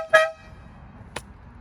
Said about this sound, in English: The Dino beep